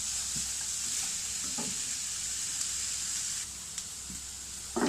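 Carrot, capsicum, green chili and shredded cabbage stir-fry for chicken chow mein, giving a steady loud sizzle with occasional soft scrapes and knocks of stirring in the pan.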